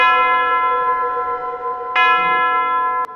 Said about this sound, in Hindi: ओह, ये क्लॉक, ये फिर से घंटा बजा रही है। 13 घंटे बजाएगी।